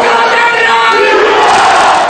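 A large crowd roars a loud, sustained chant while storming and taking over government offices during a protest, a dense wall of massed voices with no gaps.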